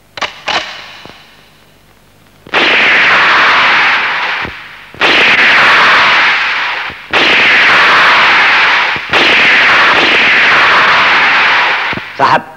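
Loud, sharp gunshots from target practice ring out one at a time, each followed by a long echoing decay, about five heavy blasts spaced a couple of seconds apart.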